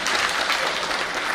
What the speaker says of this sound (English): Yes, you can clap. You can clap.